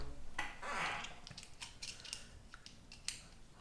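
A PH00 screwdriver works the small screws holding an SSD inside a Surface Laptop Go, making faint metallic clicks and scrapes in short, irregular bursts close by, with no talking.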